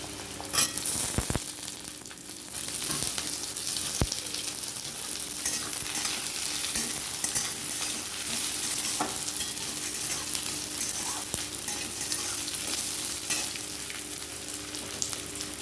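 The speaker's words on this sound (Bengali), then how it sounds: "এইবারে সেদ্ধ করা আলুগুলো পেঁয়াজের সাথে ভাজা হয়ে যাবে" Boiled potatoes fry with onions in a wok, a constant close sizzle broken by scraping stirs and a few sharp utensil knocks early on, steady to the end.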